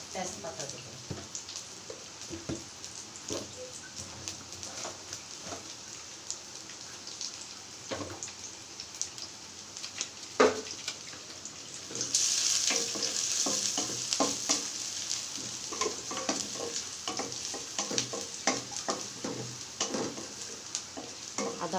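Spices frying in oil in a pan with bay leaves, giving a continuous sizzle broken by frequent scraping stirs and clinks of the spatula. The sizzle swells louder partway through as something is added.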